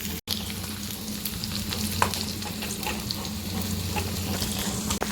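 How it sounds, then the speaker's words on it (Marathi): Sliced onion frying in a pan, a steady close sizzle with occasional stirring scrapes, continuing evenly throughout with no talking. "कांदा आपल्याला कलर चेंज होईपर्यंत कलर लालसर होईपर्यंत कांदा आपल्याला छान असा परतून घ्यायचा आहे."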